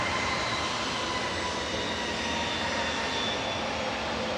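Aircraft G-EZRT, flight 2061 to Corfu, departs from Manchester Airport with a loud, steady jet roar that fills the whole span evenly and close, with no talking.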